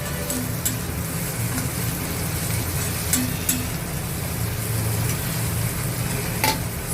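Capsicum sautéing in a pan for cheese pasta, giving a constant close, even sizzle with occasional light clicks from stirring, and no voices.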